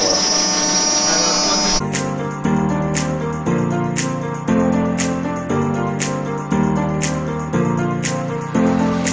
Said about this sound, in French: ils sont en train de poncer les cadres qui vont servir à assembler les différentes pièces